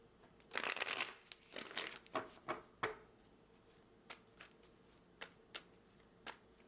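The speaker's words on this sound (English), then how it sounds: "let's get your cards shuffled" Tarot cards are shuffled up close: a dense riffle and rustle for a couple of seconds, then a series of separate soft taps and flicks as the deck is squared, with no speech.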